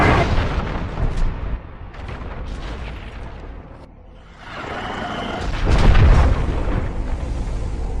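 Deep booming cannon blasts, one heavy burst at the start and a louder one about two-thirds through, each followed by a rumbling tail, alone with no voices.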